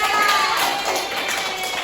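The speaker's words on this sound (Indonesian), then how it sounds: "Mari kita beri tepuk tangan yang meriah untuk Asti dan Elsa." A classroom claps for two students, a short, moderately faint burst of scattered hand clapping with a possible trace of voices.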